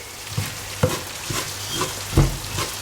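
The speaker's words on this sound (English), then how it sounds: "So stir that round, and that's just going to start to cook off and soften." Grated vegetables stirred in a pan for chilli beef, a steady sizzle running throughout with several louder scraping strokes of the spoon at irregular intervals, close by and with no talking.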